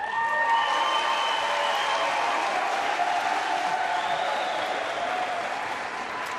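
Applause from a crowd at a 2014 Commonwealth Games badminton mixed team heat, Australia against the Falkland Islands; steady, dense clapping runs through the whole stretch with faint voices underneath.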